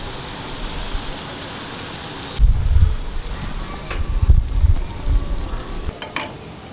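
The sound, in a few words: palm fruit fritters (taler bora) frying in hot oil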